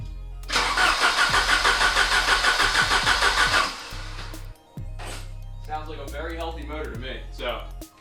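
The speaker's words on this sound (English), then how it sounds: "There's no fuel going in, but with a strong battery, he cranks over just fine." A Volvo 745 engine cranks over without fuel on a strong battery, a loud, steady rhythmic starter churn lasting a few seconds, then stopping as someone speaks nearby.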